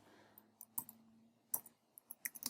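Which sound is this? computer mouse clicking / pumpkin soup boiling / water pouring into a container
computer mouse clicking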